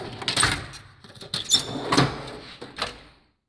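A toolbox drawer holding mainly Snap-on metric sockets slides open with squeaky, scraping bursts and a few rattling clicks over about three seconds, close by, then goes quiet.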